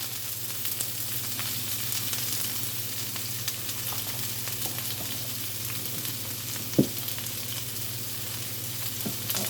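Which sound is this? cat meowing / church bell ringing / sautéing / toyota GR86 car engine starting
sautéing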